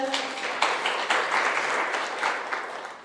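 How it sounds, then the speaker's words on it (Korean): Applause from the audience at a social economy policy forum talk show as a guest chairperson is welcomed, a steady wash of many hands clapping for about three seconds with a few sharper claps standing out. "큰 박수 부탁드립니다"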